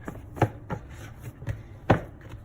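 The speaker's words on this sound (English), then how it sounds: "And then I'm going to knead it for another 5 minutes." Bread dough for Jamaican peg bread being kneaded by hand, with soft irregular thumps and slaps of dough against a work surface, a few stronger pushes standing out, close and fairly quiet with no talking.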